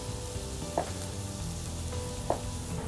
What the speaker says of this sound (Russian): Обжариваем лук и чеснок.